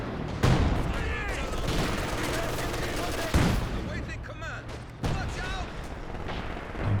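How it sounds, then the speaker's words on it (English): Soviet ZiS gun artillery barrage in Company of Heroes 2 during a 1v1 match: three heavy booming impacts stand out over continuous loud battle noise and scattered gunfire. "Using the Zis barrage to try and clear off these team weapons."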